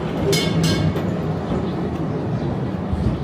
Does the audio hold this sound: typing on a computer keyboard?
no